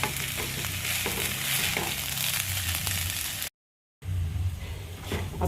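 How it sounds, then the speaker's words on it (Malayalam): Ghee sizzles and fries steadily in a hot pan for rice, with occasional stirring scrapes, loud and close, broken by a brief silent gap before the sizzling resumes. "നെയ്യും കൂടി ചൂടാക്കിയില്ലേ അതിലേക്ക് നമ്മൾ അടുത്ത് കൊടുക്കുക എന്നിട്ട് ഇങ്ങനെ ഒന്നും ഇങ്ങോട്ട് വറുത്തെടുക്കുക"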